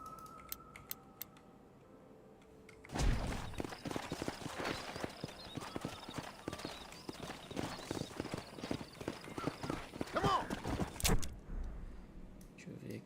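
Horse hooves clip-clopping in the video game Red Dead Redemption, a brisk run of close, rapid hoofbeats that starts suddenly and stops after several seconds, with faint ticks before.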